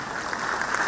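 Audience at a magic show by the magician Kudroli Ganesh claps in a brief, continuous patter of many hands, moderately loud, lasting about a second.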